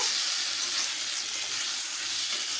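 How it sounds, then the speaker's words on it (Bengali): Fried vegetables are stir-fried with spices in a pan, a close, hissing sizzle that stays steady throughout with faint stirring under it and no voices. "দিয়ে দেবো ভেজে রাখা সবজিগুলো পাঁচ সাত মিনিট ধরে ভালোভাবে কষে নেব"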